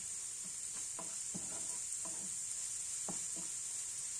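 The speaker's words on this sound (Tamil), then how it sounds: "உப்பு சேர்த்தி ஒரு வாட்டி நல்லா மிக்ஸ் பண்ணி விடுங்க." Spicy masala for a Tamil prawn fry is stirred in a pan right after salt goes in, giving soft scraping strokes over a steady, fairly faint sizzle.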